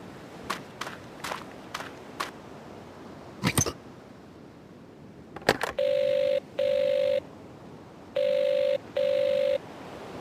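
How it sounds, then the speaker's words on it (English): A telephone rings unanswered in repeated double bursts of bright electronic trill, preceded by footsteps and clattering knocks, loud and clear in a quiet room. "Phone isn't much good if no one will answer it."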